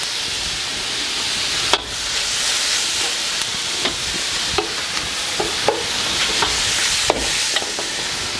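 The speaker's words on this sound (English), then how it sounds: "So next I'll add in my broccoli stem." Broccoli stem tossed into a hot chicken stir-fry pan, giving a loud continuous sizzle with scattered sharp clicks and scrapes of stirring, no voices.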